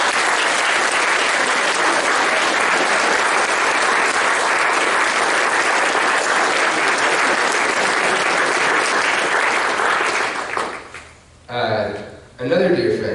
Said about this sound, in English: So let's have an applause for all of our speakers.